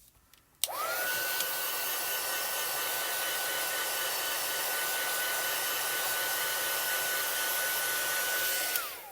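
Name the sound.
heat tool drying archival ink on stamped card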